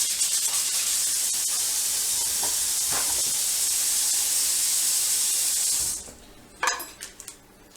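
Ground beef browning and being broken up in a hot pan for lasagna Bolognese, a loud steady hiss of frying for about six seconds, then quieter with a few sharp scraping clicks of a utensil.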